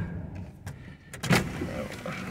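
Electric power windows on an old junkyard car whir up and down in a short, close motor hum, with light rattles and a thunk, and no one speaking.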